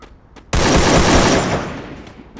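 Gunfire in the Free Fire battle royale game, a loud sudden rapid-fire burst that stays dense for about a second, then fades away.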